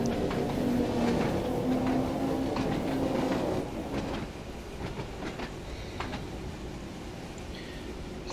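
Simulated train rolling in reverse on the Island Line in Train Sim World 2, a steady rumbling drone with a humming tone and scattered clicks of wheels over rail joints, louder at first and then easing slightly as it slows.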